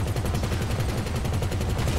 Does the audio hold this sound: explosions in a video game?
yes